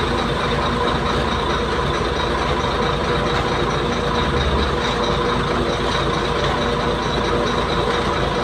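Concrete mixer truck running at a ready-mix site, a loud, constant engine drone with steady low rumble and a faint hum throughout, no talk.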